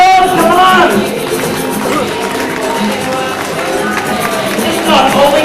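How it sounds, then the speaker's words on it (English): Audience at a Faafafine variety show clapping and cheering, a loud, dense crowd roar with whoops rising and falling, continuous across the moment. "How about a round of applause? Come on!"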